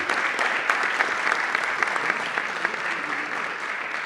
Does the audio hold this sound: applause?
yes